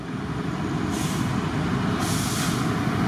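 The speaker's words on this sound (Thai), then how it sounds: "ตอนนี้รถเคลื่อนตัวออกมาแล้วครับ" Thai special freight train 632 pulls away, its heavy rumble running throughout while two short bursts of air hiss break over it about a second apart, close by and without talk.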